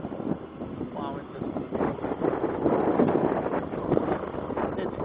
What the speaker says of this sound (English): It's really windy down here.